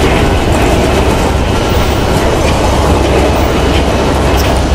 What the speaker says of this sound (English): Our train, the number 91, is arriving into Orlando Station.